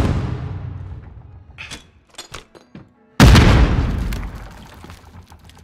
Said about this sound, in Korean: 기절 수류탄 간다.